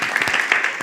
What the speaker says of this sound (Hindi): ताली बजाओ प्रभु जी के लिए